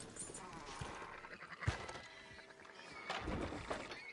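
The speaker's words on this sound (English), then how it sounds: "Fine sheep." Sheep bleating in Red Dead Redemption 2, a few wavering bleats from a flock amid soft ambient outdoor noise and a dull thump, moderately near.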